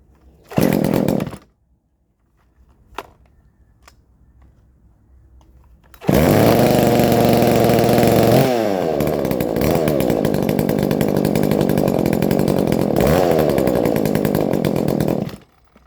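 A McCulloch CS370 chainsaw, freshly ported, gives a short loud rev, falls mostly quiet, then roars at high speed for about nine seconds, its pitch shifting once before holding steady, close up.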